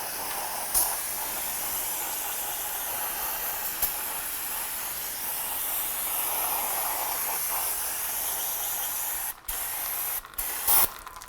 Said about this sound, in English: So spray it down.